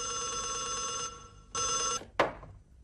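An old landline telephone bell rings in a room in a classic drama, a sustained ring that stops, rings again briefly, then a clatter as the receiver is picked up.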